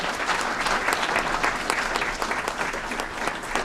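An audience at a city committee meeting claps for two honored educators, a sustained, even wash of many hands with individual claps popping through, moderately loud and without talk.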